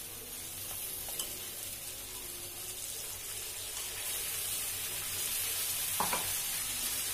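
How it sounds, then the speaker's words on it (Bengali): A spice paste of chilli, garlic, ginger and tomato frying in a pan for a broccoli and hilsa oil-jhal dish, with steady close sizzling and a few soft scrapes of stirring, no talk. "লঙ্কা, রসুন, আদা, টমেটো দিয়ে যে পেস্টটা বানিয়েছি সেটা আমি এখন দিয়ে দিচ্ছি"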